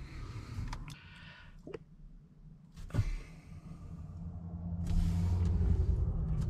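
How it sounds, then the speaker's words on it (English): Road traffic passing outside, with low engine rumble from vehicles building toward a louder, closer pass near the end, plus a brief hiss like an air brake midway; no voices. "Why is there so much traffic out here?"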